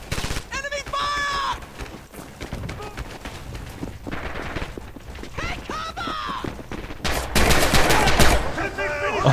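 Enemy rifle and machine-gun fire cracks around a battlefield in the World War II shooter Red Orchestra 2, with sharp shots and bursts at varying distances mixed with shouting voices and in-game chatter throughout.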